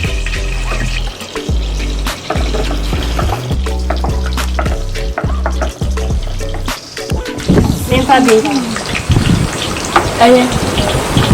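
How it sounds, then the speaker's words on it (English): Onions going into hot red palm oil on a stovetop for a traditional Asante dish, sizzling and crackling steadily, with watery bursts and stirring noises building near the end, under bits of talk. "We just put our red oil on the stove, and it's kicking. So we're gonna put onions in the oil."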